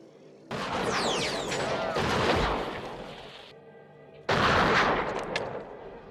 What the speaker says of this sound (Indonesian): Thomas terkena tembakan di bagian lengannya.